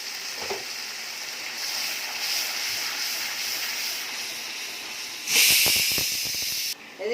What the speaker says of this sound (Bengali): প্রেশার কুকারটা একটা সিটি দিয়েছে